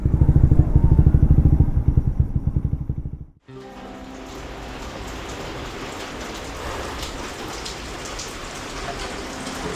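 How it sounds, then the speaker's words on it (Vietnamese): Heavy rain pours down in Da Lat during a June motorcycle trip on a Raider, a dense, steady hiss of drops; the first seconds carry a rumbling engine drone before a sharp cut to the continuous rain. "hôm nay mình lên mưa tầm tã"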